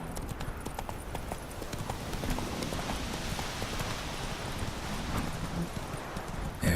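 Horse Roach's hooves in The Witcher 3: Wild Hunt, a steady, close clip-clop gait running throughout over a continuous hiss of ambient noise, with no break in the rhythm.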